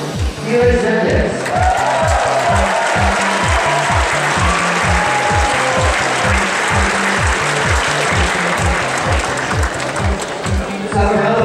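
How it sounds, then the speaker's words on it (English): A large audience at a Rubik's Cube world championship finals claps steadily for one-handed solving champions, loud sustained applause over a rhythmic low thumping beat, with a voice briefly audible at the start. "Let's have a round of applause for your 3x3x3 one-handed champions"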